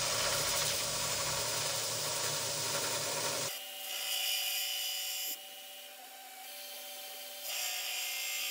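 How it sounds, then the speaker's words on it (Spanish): A belt sander grinding a steel knife blade, a harsh sustained whir and rasp that drops in pitch and loudness as the pressure shifts, with no voices. "Y nos vamos a la lijadora de banda."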